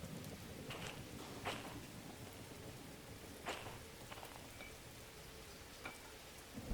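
Steady rain pours down during a thunderstorm in the train simulator game Derail Valley, a dense continuous hiss with a few brief crackling bursts at intervals, and no voices.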